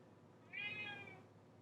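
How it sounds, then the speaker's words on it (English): A pet cat gives a single clear meow lasting under a second, fairly close but quiet, against a faint room background with no talking. "yes, that's my cat."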